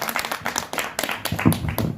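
An audience at a business seminar claps, a loose burst of scattered hand claps and smacks that comes in uneven waves for the whole short stretch.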